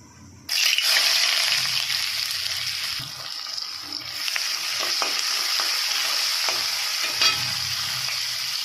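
Chopped onions hitting hot oil in a pan for crab curry, a sudden loud sizzle that settles into steady frying, with scraping stirs and clinks of the spoon throughout.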